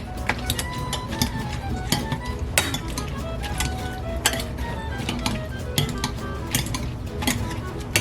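Strawberries are crushed in a pot on medium heat, with a utensil clinking and knocking against the metal in irregular, close strikes over a soft continuous background.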